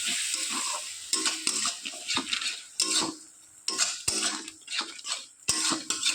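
A spoon scrapes and stirs a wet spice paste of chilli powder, turmeric, salt and water, with sharp metallic clinks against the pan in an irregular rhythm; close and fairly loud, no talk.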